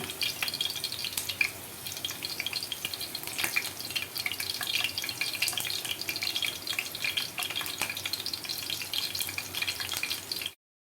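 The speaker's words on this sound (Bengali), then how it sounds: "দেখুন আমি কীভাবে ভেজে নিচ্ছি, উল্টে পাল্টে ভেজে নিচ্ছি।" Slices of bread frying in butter oil or ghee in a pan, a steady soft sizzle with light crackle and faint clinks, fairly quiet and continuous, no talking.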